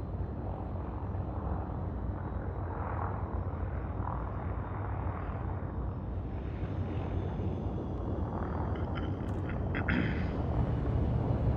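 A video game airplane comes in to land on an aircraft carrier, its engine a steady, heavy drone with rumbling low end that builds slightly near the end, heard alone without talk.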